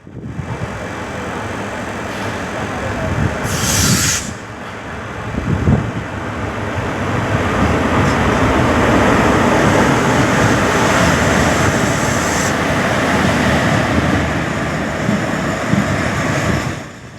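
The 16328 Guruvayur–Madurai Express runs on the single-track Sengottai–Punalur line through monsoon forest, heard as a loud continuous rumble and roar that swells midway and holds steady to the end, with no voices.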